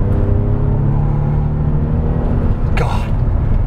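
Bentley Continental GT at full throttle, a loud, steady engine rumble and whir building continuously from inside the cabin, with a brief brighter rush near the end.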